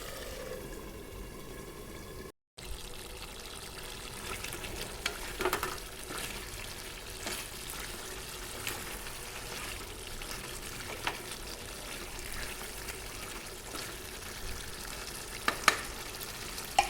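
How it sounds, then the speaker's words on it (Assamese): Local Assamese-style chicken curry being stirred in a pan: a steady low sizzle with repeated scraping strokes of a spoon or spatula throughout, broken by a brief gap of silence near the start. "আৰু আপোনাৰ আঞ্জাখন এফালৰ পৰা লৰাই যাম, ঢাকনিটো মাৰি দিম।"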